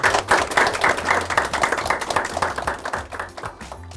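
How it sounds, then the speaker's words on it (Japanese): An audience applauds at the close of a clinical Q&A session, a dense, steady wash of many hands clapping that stays fairly loud for the full four seconds with no one speaking. "園部先生と松田先生、大きな拍手を終わらせていただきたいと思います"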